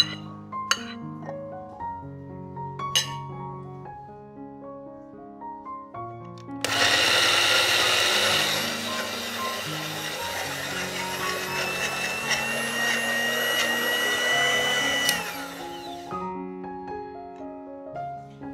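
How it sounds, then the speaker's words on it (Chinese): A blender grinds crispy vegetarian meat for a Southeast Asian otak-otak dish, roaring steadily for about eight seconds in the middle, with soft background music playing before, during and after. "素肉脆一样放入搅拌器中搅碎"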